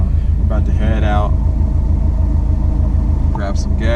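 Car engine warming up with a steady low idle rumble, constant and close, while someone talks over it.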